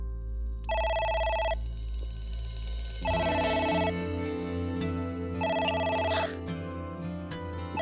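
A telephone in the video game AI: The Somnium Files rings in repeated electronic bursts of trilling tones, each lasting about a second with pauses between, loud and clear over a low background music bed.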